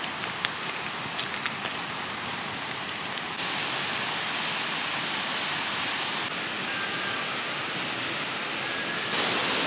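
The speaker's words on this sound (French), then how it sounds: "vous avez plein de petites cascades tout le long en fait de la falaise là, et ça coule" Small waterfalls streaming down a cliff face just before a beach on Réunion Island give off a steady, broadband rushing of falling water, continuous and fairly close, with no voices.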